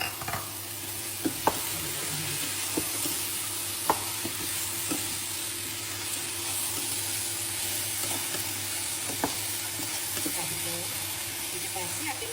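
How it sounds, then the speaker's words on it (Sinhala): Green chilies and a piece of cinnamon sizzle steadily in hot oil, a continuous near frying hiss broken by a few sharp crackles and occasional stirring clicks. "ඒක ටිකක් තෙලෙන් පැන්දෙන්න අරින්න ඕනේ"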